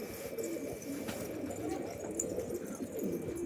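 Pigeons coo softly amid a loft full of birds, a steady low murmur of overlapping calls with a faint constant hum behind, no speech.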